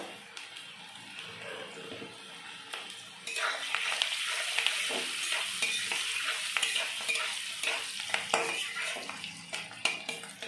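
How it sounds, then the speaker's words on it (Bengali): Chopped onions with turmeric powder sizzle in a pan while being stirred, a steady frying hiss with scraping and clinks that grows louder partway through, close and without speech. "পেঁয়াজগুলো ভাজা ভাজা হয়ে গেছে।"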